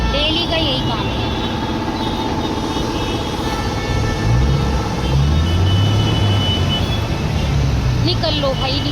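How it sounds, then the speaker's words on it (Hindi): Dense road traffic crawls in a jam of cars and buses, a steady roar of engines close by with a few louder vehicle surges while someone talks over it. "एक तो ट्रैफिक जाम हो रहा है यार, डेली का यही काम है"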